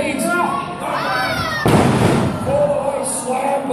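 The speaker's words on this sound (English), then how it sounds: "Boy, slammed by Bang Bang Bailey." At a live Australian indie wrestling show, a wrestler hits the ring mat with one sharp, loud slam midway, followed by a burst of crowd noise and shouting, with a commentator talking throughout.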